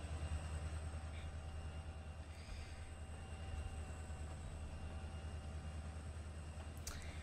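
An SW-10 switcher locomotive in the Trainz Simulator 3 game rumbles steadily at low volume, with a continuous engine drone and faint rail noise and no talk.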